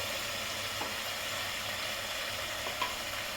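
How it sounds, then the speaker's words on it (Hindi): Ground masala spices frying in hot oil for a Jitiya festival thali, giving a steady, close, even sizzle that runs throughout, with a couple of faint stirring clicks and no voices. "मसाला अच्छी तरह भून रहा है। चारों तरफ तेल दिखने लगा है।"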